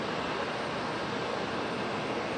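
JetBlue jet airliner in mint livery at Raleigh-Durham International Airport, a steady broadband roar that holds at moderate level throughout with no voices.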